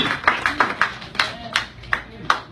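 A church congregation clapping in a steady rhythm during worship, sharp hand claps repeating roughly every third of a second, close and loud, with singing voices faintly underneath.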